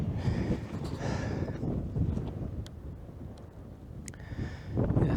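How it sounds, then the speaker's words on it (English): Gusty wind buffets the microphone on an exposed mountain summit near a stone monument in Dinara Nature Park, a steady loud roar with rushing surges at the start and end. "It's quite windy here."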